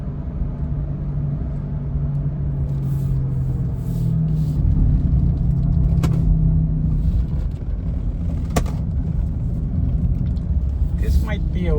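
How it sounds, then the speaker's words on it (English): A worn front wheel bearing on a high-mileage Honda Pilot gives a steady low droning hum and rumble from inside the moving vehicle, continuous throughout amid road noise. "It sounds like a wheel bearing noise."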